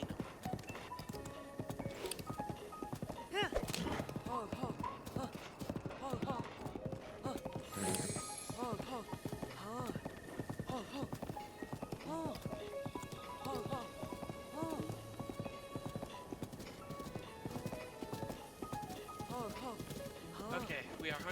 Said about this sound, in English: we are hunting the pure white horse